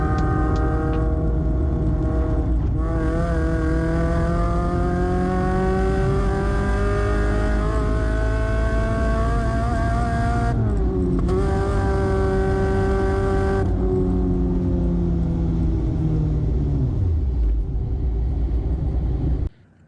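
A Mazda NC1 track car with a 2.5L Duratec engine racing at Buttonwillow, loud and close, holding a strained high-rev drone that shifts pitch, dips briefly, then winds down before cutting off.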